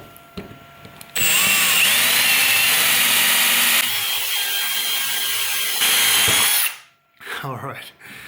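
An arrowhead drill bit bores through pine softwood in a loud, continuous power-drill whine that shifts pitch partway through as the bit bites. It stops abruptly, followed by a few brief scraping noises.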